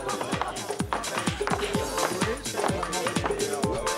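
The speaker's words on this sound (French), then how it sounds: "Le bruit de pas dans la boîte." Rapid, evenly spaced footsteps play as a sound effect inside a nightclub scene from a TV series, with steady thumps under background music and voices talking over them.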